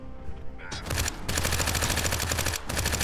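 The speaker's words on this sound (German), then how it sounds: "Ich muss noch mal kurz dem Geschützturm sagen, was er machen soll. Schießen." A gun turret in The Front video game fires a rapid, loud burst of automatic shots that runs steadily for about two seconds after a brief gap, close and dense.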